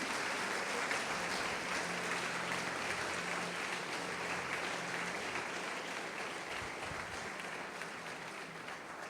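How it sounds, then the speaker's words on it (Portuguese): A church congregation applauding, a dense, even wash of clapping that carries on steadily and tapers slightly toward the end, with no clear speech over it. "Pode aplaudir o Senhor e glorificar Deus."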